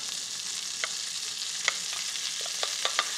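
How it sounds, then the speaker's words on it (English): Onions, carrots and celery fry in rendered pancetta fat with a steady, close hiss of sizzling. Soft pops and crackles sound scattered throughout. "I'm going to begin to brown those vegetables in this fat"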